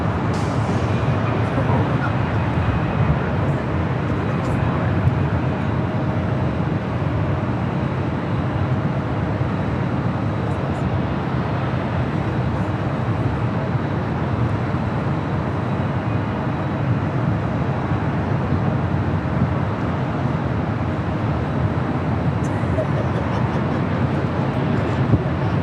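An airliner lands on runway 24 right at LAX airport, a steady, broad roar with wind rumble that holds evenly for the whole stretch, with no clear voices over it.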